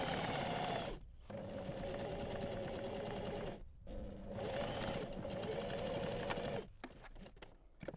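A sewing machine runs a straight stitch along a robe bodice where the pocket is attached, a steady close buzzing hum in runs broken by a few brief pauses, with no voices.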